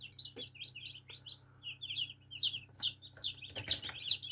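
Tiny high-pitched peeping chirps from newly hatched chicks in an incubator repeat in quick bursts, growing busier and louder toward the end, over a low steady hum.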